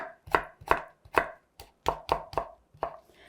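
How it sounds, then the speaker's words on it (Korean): A kitchen knife cuts zucchini into strips on a cutting board in a school-lunch cooking class, giving about eight crisp, close chops at an uneven pace with short pauses between strokes. "이렇게 해서 호박 채 썰어 주도록 하겠습니다"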